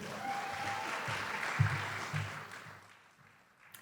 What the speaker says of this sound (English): Please give a round of applause for Oksana Veres